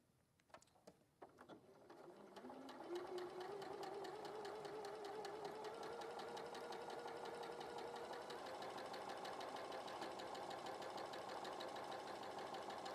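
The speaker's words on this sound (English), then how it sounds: "So I'm going to sew and make like a little channel here." A sewing machine starts up with a few clicks, then ramps into a fast, steady mechanical chatter, stitching a channel in candy-striped fabric. The sound is close, even and continuous, with no talk over it.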